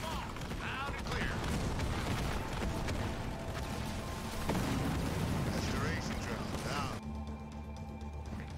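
Explosions level an enemy structure in the real-time strategy game Halo Wars 2, a dense rumbling din of blasts and battle noise running throughout, with a shift to a thinner mechanical hum near the end and game voices mixed in.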